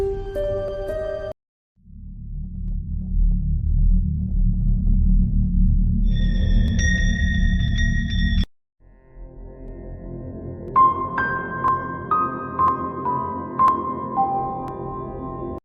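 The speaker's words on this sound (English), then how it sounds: "That sounds very creepy to me, and it sounds like a documentary music." Creepy stock documentary music plays with sustained low drones under eerie tonal pings and held high notes, shifting through a few distinct sections separated by brief silences.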